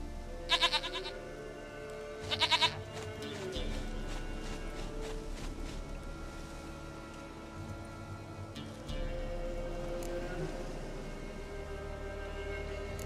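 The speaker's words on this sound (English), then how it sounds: "Goat of mine! Dearest," Goat bleats from Witcher 3 come in two quick harmonic bursts near the start, over steady game ambience with low hum and soft movement sounds.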